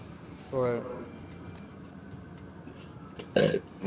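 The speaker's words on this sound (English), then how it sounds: "Why am I burping so much?" Two short voiced belches, one near the start and a louder one near the end, with quiet room noise between them.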